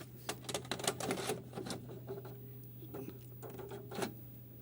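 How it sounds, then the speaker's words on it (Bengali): An old cassette is pushed into a Sony VCR, giving a series of close plastic clicks and mechanical clatter over a low steady hum. "এই যে পুরানটা এই যে ভিতরে ঢুকিয়ে দিতেছি"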